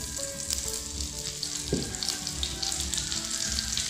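Onion dropped into a hot frying pan for a broccoli tofu oyster sauce dish, a constant close sizzle with a brief splash-like burst as it goes in.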